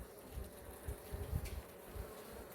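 Honey bees buzzing at a hive during a school visit, a dense, steady drone with soft fluctuating hum, close and continuous without any talking.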